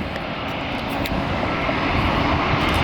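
An American Airlines jet at Atlanta Airport, its engines making a steady, fairly loud roar that builds slightly across the clip.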